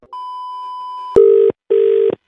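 A telephone line gives a steady single tone, then two loud, close, buzzing rings with a short gap between them, clear and isolated with no voices.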